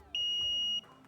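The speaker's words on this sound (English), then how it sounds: "Everybody hands on your buzzers. On my signal, buzz in." A single electronic quiz buzzer tone sounds for about half a second, a bright steady beep that cuts in and stops abruptly.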